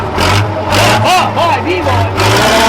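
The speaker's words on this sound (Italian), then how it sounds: "fammi un colpo di gas intanto" A Fiat 682 N2 truck's diesel engine revs up in a burst, rising and falling several times, loud and close, with voices talking over it.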